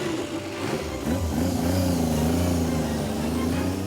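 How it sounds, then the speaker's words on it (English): A Wall of Death motorcycle engine revving up, a loud, close rising growl with a wavering pitch that settles into a steady, throaty drone. "It's a nice sounding bike, those, aren't they? Give it a beat, Steve."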